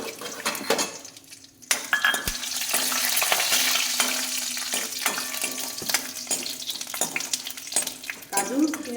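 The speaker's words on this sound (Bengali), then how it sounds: "এবার কাজু আর চিনে বাদাম আমি একটু ভেজে" Cashews and peanuts fry in a little oil for mung dal with pumpkin, a steady close sizzle broken by clinks and scrapes of a utensil against the pan.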